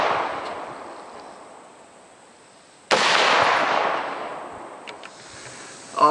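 A SCAR-H rifle fires in the iGun Pro II mobile app, giving one sudden loud synthetic blast with a long decaying tail after a fading wash of noise.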